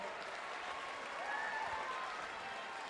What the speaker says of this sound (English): Everybody cheer her on.